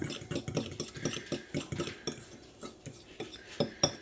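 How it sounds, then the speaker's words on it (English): A metal fork stirring ketchup and curry sauce together for currywurst in a bowl, a quick run of close, light clinks and scrapes in an uneven rhythm with no voices. "Grab a fork. Let's mix this up."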